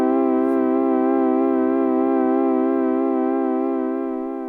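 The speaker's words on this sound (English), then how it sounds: "Long release means it's going to trail off for a really long time." A Vongon Replay synthesizer holds a bright, harmonically rich note with a gentle wavering vibrato, loud and unbroken, slowly softening toward the end as the long release trails off.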